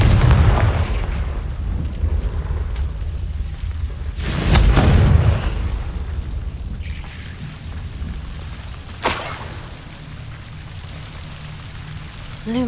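A Confringo fire-blast spell explodes in Hogwarts Legacy with a loud, deep booming burst, followed by a rumbling decay and a later sharper crack, set against a steady rain-like background hiss.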